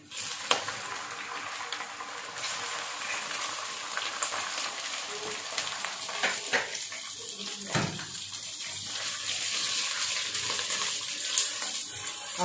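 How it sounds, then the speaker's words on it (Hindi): Bitter gourd (karela) fries in hot oil for a sabzi with a steady, close, hissing sizzle, and occasional clinks and stirs rise over it. "करेले फ्राई करके निकाल लूँगी।"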